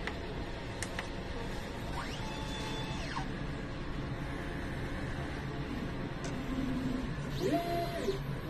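An inkjet printer runs a nozzle test after a head cleaning, with a steady mechanical hum, repeated whirring carriage sweeps that rise and fall in pitch, and a few brief clicks, all at close range with no talking.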